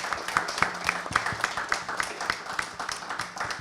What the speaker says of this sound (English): The second round of applause, give to yourselves.